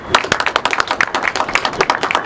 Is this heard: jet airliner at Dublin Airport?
no